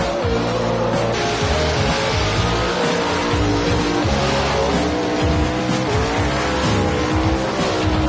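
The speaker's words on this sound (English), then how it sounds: "Nitrous oxide injected mountain motors and the superstars of championship drag racing" Nitrous-injected mountain-motor drag racing cars at a championship drag race, loud roaring engines with shifting harmonic whine and tire squeal, continuous and close, no talk.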